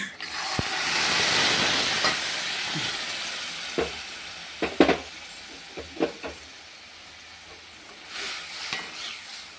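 Green peas curry with vegetables stirred in a pan, a soft sizzling hiss under scattered scraping and clinking of a spoon against the pan, with a few sharper knocks partway through and no voices.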